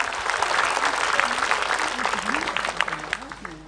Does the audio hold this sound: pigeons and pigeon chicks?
no